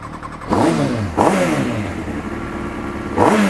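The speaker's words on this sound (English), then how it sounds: "This is a Muzzy Exhaust, very special." A 1999 motorcycle with a Muzzy exhaust revving, three sharp throttle blips rising and falling up close, with a steady idle rumble between them.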